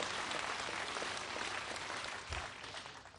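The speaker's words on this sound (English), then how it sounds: "Alex a big round of applause" A crowd at a rural town hall meeting in Atkinson, Illinois, applauds a young boy, quiet, distant sustained clapping that fades slightly toward the end.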